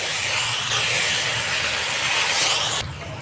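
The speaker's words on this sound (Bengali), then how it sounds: "তিল বাদাম হলুদ একসাথে মিশিয়ে যে জলটা বানালাম সেই জলটা এবার দিয়ে দেবো এর মধ্যে" Water blended with sesame, peanut and turmeric hits a hot pan of okra, bursting into a loud, steady sizzling hiss that drops off sharply near the end.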